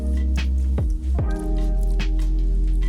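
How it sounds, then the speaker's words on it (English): Water from a DI rinse bottle squirts and splashes over a metal hand auger barrel, a few wet squishing spurts and drips up close, with a low steady hum underneath. "give it a final rinse inside the barrel and out"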